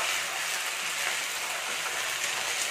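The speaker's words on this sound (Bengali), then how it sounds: "আদাটাকে একটু ভেজে নেব।" Ginger paste sizzles steadily in a hot pan while cooking a vegetarian pumpkin dish, a continuous hiss with no talk.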